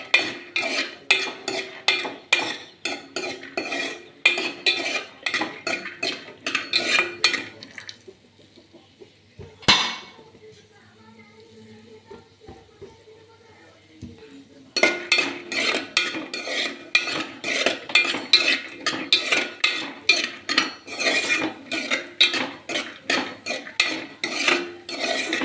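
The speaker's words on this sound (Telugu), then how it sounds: "జీడిపప్పు వేగిపోయినాయి, బాగా మంచి కలర్ వచ్చేదాకా తీసి పక్కన పెట్టుకుందాం." Cashew nuts frying in a pan for rava laddu, with rapid metallic scraping and clinking of a spoon against the pan, steady and busy, breaking off into a quieter stretch midway before the brisk stirring resumes.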